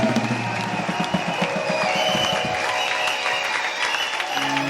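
A church congregation at an international convention in Douala claps in rhythmic applause with crowd voices and music underneath, dense and energetic, easing toward the end.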